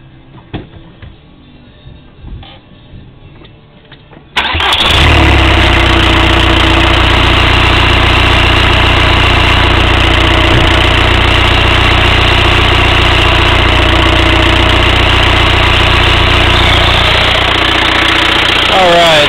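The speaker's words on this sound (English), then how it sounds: "Now the car is running, and you can actually hear the EGR cycling back and forth" TDI diesel car engine starts after a few seconds of quiet handling noise, then idles loudly and steadily close by with a rough, knocking diesel clatter that holds throughout.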